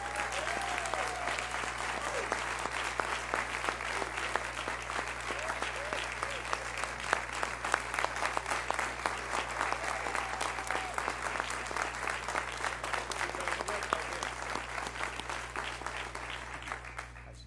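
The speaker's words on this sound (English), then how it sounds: "Please stand up and let's give them a round of applause." Audience applause for school principals at a budget presentation meeting, a dense, sustained clapping from a large crowd that holds steady for the whole stretch over a low hum.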